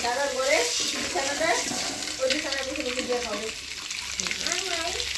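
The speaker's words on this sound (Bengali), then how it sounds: "আমি ডিম বোনা করার জন্য ডিমগুলো ভাজা নিতেছি" Eggs frying in a pan for egg bhuna, a continuous hissing sizzle close by, with a person talking over it throughout.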